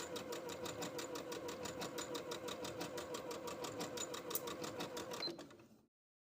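A sewing machine runs a blind hem stitch along a pant hem on easy pull-on pants, a steady rapid run of close stitching heard alone and up close for several seconds before it stops abruptly.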